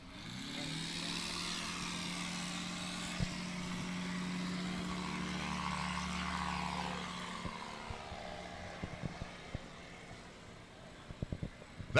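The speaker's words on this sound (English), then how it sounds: "That's an impressive takeoff there." A Just Aircraft SuperSTOL light plane taking off at the Sun 'n Fun 2021 fly-in: a steady propeller engine drone holds, swells, then fades into the distance, followed by a few scattered clicks.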